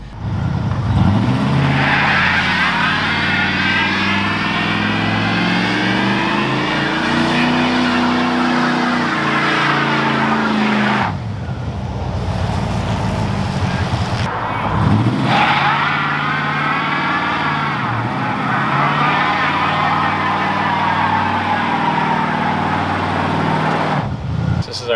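A 1986 Ford F250 truck doing a burnout, its engine revving hard and loud up close, with a sustained roar that rises and falls, dips briefly twice, and carries on under faint voices.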